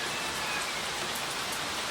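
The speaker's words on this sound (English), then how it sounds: "Do you hear this rain?" Steady rain pouring down outdoors, a dense even hiss of drops on surfaces with no voices, constant in level throughout.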